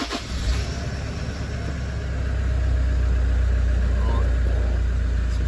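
A Toyota engine runs at a steady idle, a continuous low hum that is close and fairly loud and swells slightly after a brief start transient, with no talk over it.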